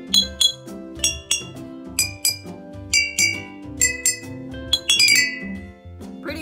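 Drinking glasses tapped with a stick, ringing bright clinks in a quick uneven melodic pattern of many strikes over a lower sustained tone, close and fairly quiet.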